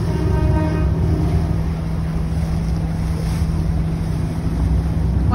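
Steady boat engine drone on the water in Venice, Italy, with a constant low hum and wash of wind and spray, continuous throughout, close and loud.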